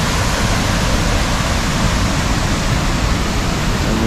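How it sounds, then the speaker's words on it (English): A waterfall on the Batchawana River in Northern Ontario roars with a loud, steady rush of broadband water noise, constant and unbroken throughout. "there's a short path to the edge where we can see down to the waterfall."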